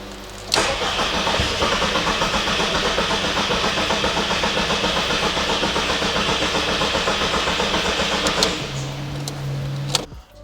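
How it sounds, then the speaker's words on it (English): A car engine that has not been started in over four years cranks continuously for several seconds with a rhythmic, pulsing starter whir, loud and close, then stops without catching. "the engine definitely cranks"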